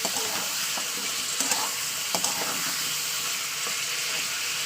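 Meat fries in hot oil for a Bengali mangsho kosha, giving a dense, steady sizzle with faint stirring and scraping underneath and no talking.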